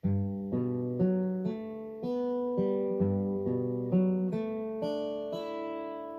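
Acoustic guitar plays a gentle, evenly paced fingerpicked pattern of clear ringing notes over changing chord shapes, close and unaccompanied.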